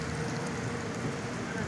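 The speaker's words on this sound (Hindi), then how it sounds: "फातिमा बारिश इंजॉय कर रही है" Rain falls steadily outdoors, a faint, even hiss of drops with no other clear sounds.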